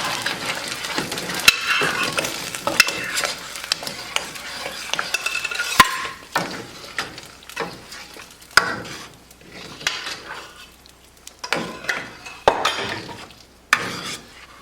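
Saag being stirred in a big pot over a simmering flame, with irregular scraping and knocking of a utensil against the pot, soft rustling, and a faint sizzle between the strokes.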